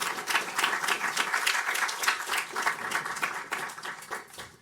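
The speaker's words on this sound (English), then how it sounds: "Let's give them a round of applause." Audience applause after a policy panel on climate change and national debt, a steady wash of many hands clapping at even strength for the whole stretch, with no talk over it.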